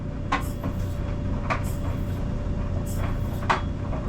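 A clothes dryer in a rented home, not running long, gives a steady low rumble with sharp squeaks and knocks at irregular intervals, not in a constant rhythm.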